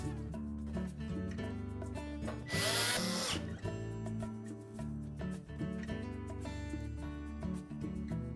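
A power drill drives screws back into the console of a GE range, with a near, loud mechanical whir and a sharp high burst of effort partway through, and no talk over it.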